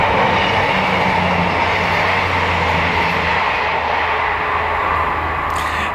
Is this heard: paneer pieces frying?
no